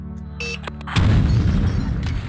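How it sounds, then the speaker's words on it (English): A stun grenade thrown into a room in the spy video game Spycraft: The Great Game bursts into a loud, sustained noisy roar that follows a few short electronic beeps and tones, with a rumbling low end. "Throw a stun grenade into this room."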